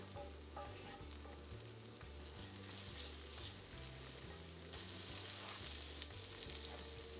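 Butter melting and frying in a pan over medium heat, a steady sizzle that grows brighter and louder partway through, with a low droning hum underneath; no one speaks.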